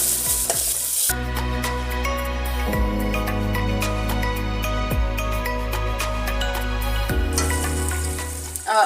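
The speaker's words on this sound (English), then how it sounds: "We allow our onions to cook as they stir." Onions frying in a pan for a Kenyan meal, with a steady, loud sizzle and repeated stirring scrapes running throughout, and no talking.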